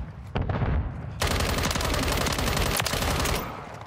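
Rapid automatic gunfire in the shooter game Modern Warfare III bursts in loud and close, a sustained rattling volley that runs for several seconds before easing off.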